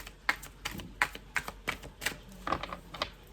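Hermetic Tarot cards being shuffled, a quick series of crisp snapping riffles and soft card clicks in an irregular rhythm, close and moderately quiet with no talking.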